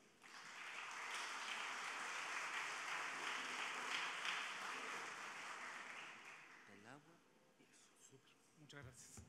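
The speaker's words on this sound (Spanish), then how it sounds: "Lo recibimos con un fuerte aplauso." Applause from an audience greeting a speaker at a public lecture on data and democracy, faint and even for several seconds before fading, followed by a voice starting to speak.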